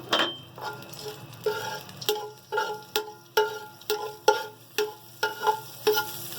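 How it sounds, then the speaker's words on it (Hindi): Crushed cardamom pods fry in ghee until golden, with a spoon scraping and tapping the pan in a steady rhythm of about a dozen strokes over a soft, constant sizzle, close and clear with no talking. "ये घी के अंदर मैं थोड़ी गोल्डन कर लूँगी"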